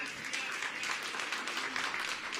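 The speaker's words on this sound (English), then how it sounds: "You can give a round of applause to that." Audience applause at a grand opening of a sit-down restaurant, a steady wash of many hands clapping that holds evenly for a couple of seconds, fairly close and without pause.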